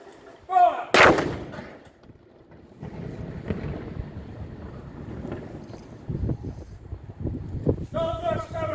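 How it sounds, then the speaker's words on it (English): Guns firing in a numbered gun salute in Guernsey, with sharp booming reports outdoors amid wind noise, while voices call out commands between the shots. "Number 5 gun! Fire! Number 6 gun! Fire!"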